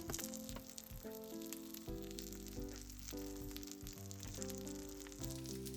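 Okonomiyaki fries in pork fat in a pan, giving a faint, steady crackling sizzle that runs beneath louder background music throughout.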